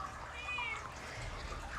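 A pet cat gives one drawn-out meow, fairly faint over a steady hiss of running water, with no talk.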